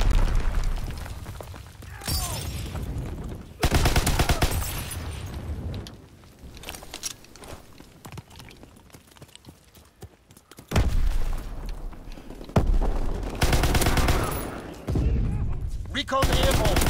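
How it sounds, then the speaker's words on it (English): Artillery fire and battlefield combat in a WWII video game: heavy booming blasts and bursts of gunfire come in loud waves with quieter stretches between, while someone talks over parts of it. "that's my artillery"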